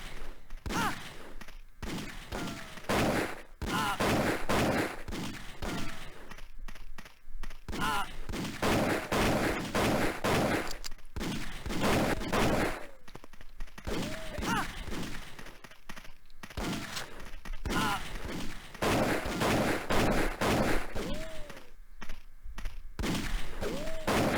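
Dense bursts of video game gunfire, rapid volleys and single shots crackling almost nonstop, with someone talking over the shooting at times.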